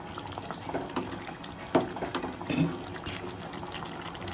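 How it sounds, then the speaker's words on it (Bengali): Cold water is poured into a pan of nearly boiled chicken cooking for Jahaji chicken, giving a soft, continuous splashing and bubbling with a couple of brief louder gurgles, fairly quiet and close. "আমি এতে ঠান্ডা জলই দিলাম"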